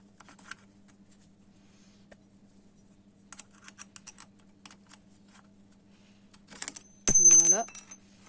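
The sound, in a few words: brake pads dropping out of SYM Lander 250 quad caliper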